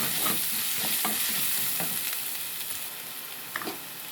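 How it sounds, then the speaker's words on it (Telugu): A spoon scrapes and stirs through thick tomato puree in a hot frying pan, with a steady sizzle underneath and a few sharper clicks along the way. "కలుపుకున్న తర్వాత టమాటా ప్యూరీ వేసి కలుపుకుందాం"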